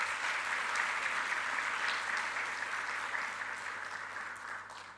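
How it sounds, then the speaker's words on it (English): A conference audience at an Institute of Chartered Accountants of India event in Kuwait applauds in a hall, a dense, even wash of many hands clapping together that holds steady and then slowly fades. "So big round of applause for them."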